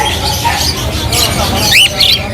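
A room full of pet lovebirds, parakeets and cockatiels keeps up loud, overlapping squawks and sharp chirps, with a voice speaking beneath the birds.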